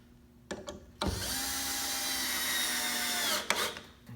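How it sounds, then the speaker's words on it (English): A power drill drives screws into wooden stilts in a short, steady whir of about two and a half seconds, close and loud, with brief clicks of handling before and after. "And drive the screws in."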